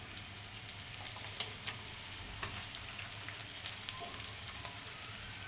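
Garlic frying and being stirred in a pan for restaurant-style chilli chicken, a soft continuous sizzle broken by light scraping ticks of the spoon, fairly quiet and without talk.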